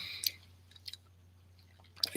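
Supplement tablets are chewed up close, giving a few sharp, isolated crunches spaced apart against near silence.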